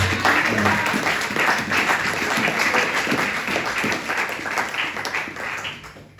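A church congregation applauds loudly and continuously, a dense wash of many hands clapping together that holds steady for several seconds before easing slightly at the end.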